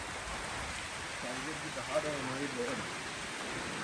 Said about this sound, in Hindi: जो है ये बारिश दिख रही होगी